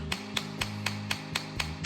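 Small wooden dowels are tapped into a handmade jewelry stand with a steady series of about seven crisp, evenly spaced knocks, close and distinct over a low continuous hum.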